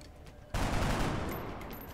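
Gunfire from a soldier firing at aliens in the strategy video game XCOM: a sudden loud burst of shots kicks in partway through and rolls on as a dense crackle to the end.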